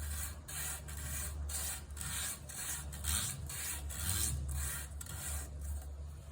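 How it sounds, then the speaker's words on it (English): Steady rhythmic rasping of 320 grit sandpaper worked back and forth over a super glue finish on a small koa wood guitar truss rod cover, close and continuous with regular strokes, no voices. "now I'm going to go ahead and start sanding it using some 320 grit sandpaper"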